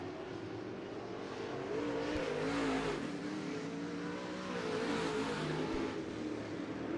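Race cars in a heat race at Bakersfield Speedway, a continuous engine drone with two swells as the cars pass, heard at a moderate distance with no talk over it.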